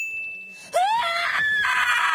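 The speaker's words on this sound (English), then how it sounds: "This scream is absolutely harrowing" A harrowing, anguished scream from an episode of The Last of Us TV series rises sharply out of near silence and then wavers and holds, loud and raw, after a faint high tone.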